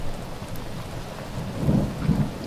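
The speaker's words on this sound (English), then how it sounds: "The night was calm, rain falling softly into the ground." Steady rain falling as a continuous hiss, with a low rumble swelling underneath toward the end.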